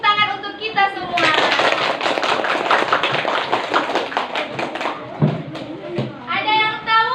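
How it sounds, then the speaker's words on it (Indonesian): Children in a classroom break into a burst of applause, quick overlapping hand claps for several seconds with young voices chattering and a teacher talking before and after. "tepuk tangan untuk kita semua"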